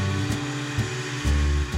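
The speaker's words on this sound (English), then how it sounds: "Maybe it's the sound of the vacuum cleaner that I really enjoy, the noise that it makes." A Hyla water-filtration vacuum cleaner runs nearby with a steady, loud droning hum, its pitch and load shifting slightly every half second or so.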